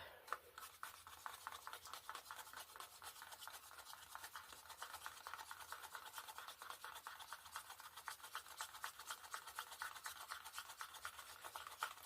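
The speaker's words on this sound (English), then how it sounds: "more than a flat spoon, like that. Okay. And then I can mix that up." Flat spoon stirring Pearl Swipe paste in a cup makes a continuous quiet scraping and rubbing, a fast even rhythm of strokes throughout, faint and close.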